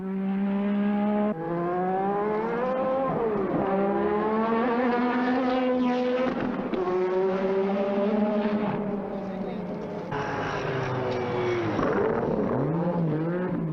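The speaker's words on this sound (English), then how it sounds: "Out on the track, the car looks and sounds impressive." A 1983 Lotus 93T-Renault Formula One car's engine roars and shifts pitch as it tests on the Paul Ricard track, rising and falling through gear changes, loud and close throughout.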